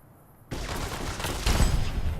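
Gunfire in the video game Fallout: New Vegas, a dense burst of shots that starts suddenly after a quiet half second and grows louder and fuller toward the end.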